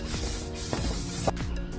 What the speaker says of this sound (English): We're going to add some air filter oil onto it. We're going to give it a quick spray over the top.